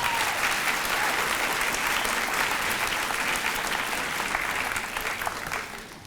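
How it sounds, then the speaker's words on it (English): An audience at a middle school honor society ceremony claps loudly and steadily in an indoor hall, a dense sustained applause that holds for several seconds and then tapers off at the end. "That deserves a round of applause."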